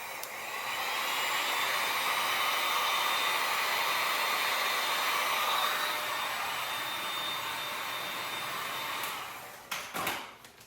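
A heat gun drying terracotta clay gives a steady, loud blowing whir that runs close and unbroken for several seconds, then cuts off and is followed by a few brief clunks and handling knocks.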